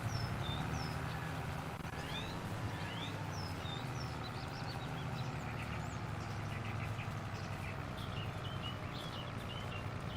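Tractor engine in Farming Simulator 22 hums low and steady throughout, with faint bird chirps high above and no speech.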